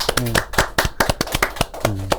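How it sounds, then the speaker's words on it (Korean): A handful of sharp, separate claps from an audience at a live talk-show broadcast land in an uneven rhythm while a voice keeps talking over them. "박수 한번 주시죠"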